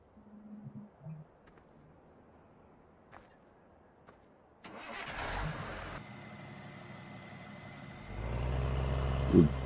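A truck engine in the video game Farming Simulator 15 on a Nebraska farm map starts abruptly after quiet ambience with faint bird-like chirps, then idles and revs up louder as the truck begins to move. No one speaks.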